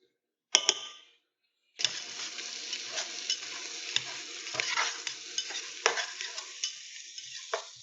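Onions for a bacon, potato and cheddar soup sizzle in a pot while being stirred, a brief scrape, a pause, then steady close frying hiss punctuated by sharp clacks of the utensil against the pot.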